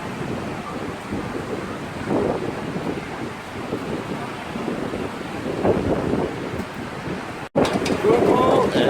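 Steady wind buffeting the microphone with low rumbling gusts on the coast at Calpe, Spain, a voice faintly underneath, and a brief cut near the end before the wind returns louder.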